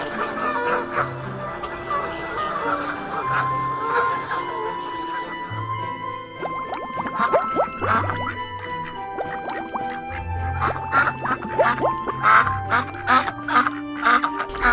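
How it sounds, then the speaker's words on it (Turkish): Several ducks quack in repeated bursts as they fly down and settle on a pond, the calls fairly close and overlapping, with busy splashing and rustling textures around them and no talk. "Günlərin birində gölməçənin üzərindən ördəklər uçurdu. Onlar gölməçəyə endilər"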